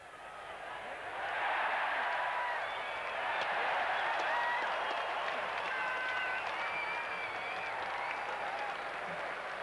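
Rugby match crowd applauding, a broad sustained wash of clapping with some cheering voices mixed in, swelling after the first second or so and holding steady, fairly distant.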